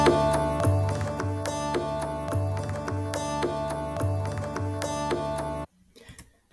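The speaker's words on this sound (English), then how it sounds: "it's a drone thing with drums and hurdy-gurdy" A medieval-style drone loop with drums and hurdy-gurdy plays continuously with a steady pulse and sustained buzzing drone, loud and alone, then cuts off near the end leaving brief faint noise.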